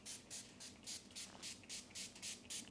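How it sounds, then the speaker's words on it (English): About ten quick, even puffs from a small handheld spray bottle mist water over a potting mix and perlite blend, each a short close hiss in a steady rhythm, soft and alone. "I have some just water in a little sprayer, and I'm just gonna gently spray the top."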